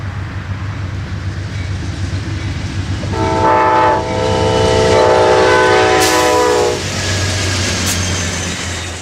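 An Amtrak Coast Starlight passenger train departing Salinas at night rumbles close by as its horn sounds one long, loud blast, followed by a shorter toot while the cars roll on.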